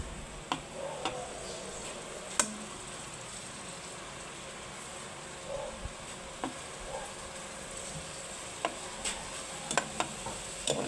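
Chopped liver frying in a pan as the base for creamy sopas, a soft steady sizzle broken by occasional light clicks and scrapes of stirring.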